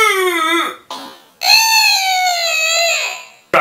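A mouth imitates a zipper: one short rising whistle-like zip, a brief gap, then a longer sustained zip of about two seconds, closely voiced with no talk.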